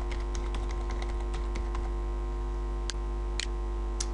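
Password typed on a computer keyboard, a quick run of light key clicks followed by a few isolated taps, over a steady low electrical hum.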